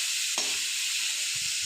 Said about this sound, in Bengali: এবারে আমি বেশ ভালো করে ভেজে নেব, নাড়াচাড়া করে।